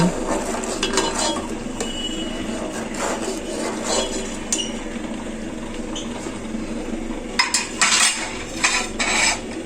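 A pressure cooker is being washed among other pots and utensils, with metal clinks, scrapes and clatters. The clatter comes in irregular bursts and grows busier and louder toward the end, and no one speaks.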